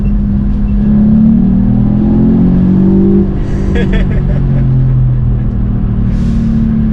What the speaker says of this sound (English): let's give it a second gear pull. Foot to the floor.